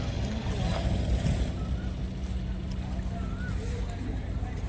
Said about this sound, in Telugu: ఇది కొత్త బోట్ అనుకోండి ఫ్రెండ్స్